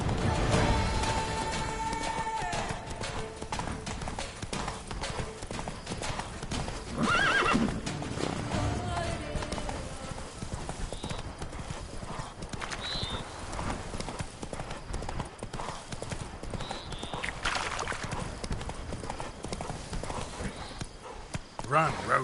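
Roach the horse galloping in The Witcher 3, rapid continuous clip-clop hoofbeats with neighs, under game music and effects, with short bits of spoken dialogue.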